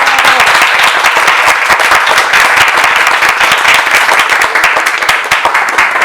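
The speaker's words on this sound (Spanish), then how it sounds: "Un aplauso para Javier, por favor." An audience at a book launch in Mexico City gives an author loud, sustained applause, dense close clapping that stays steady for several seconds.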